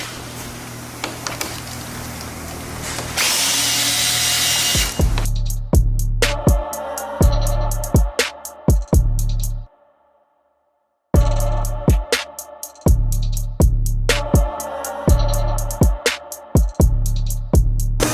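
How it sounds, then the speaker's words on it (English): Power tool backing out 10mm screws along the front bumper of a BMW M4 G82, a series of short repeated bursts with gaps between them and a silent pause partway through. "you're going to remove the 10mm screws along the front of this bumper"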